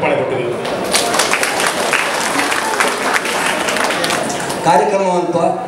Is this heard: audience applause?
yes